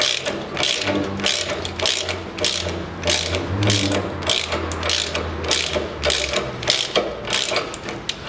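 A ratchet wrench tightens the spring shackle bolts on a 1982 Land Rover Series III, giving quick bursts of sharp, rhythmic clicks that repeat steadily at close range with no talking.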